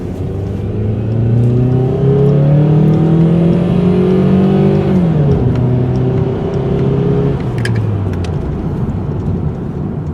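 A 2000 Toyota Camry four-cylinder engine with a repaired exhaust revs up through rising pitch, drops briefly as it shifts, then climbs again; loud, close, and steady throughout.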